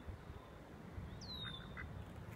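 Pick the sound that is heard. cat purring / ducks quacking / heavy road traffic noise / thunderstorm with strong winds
ducks quacking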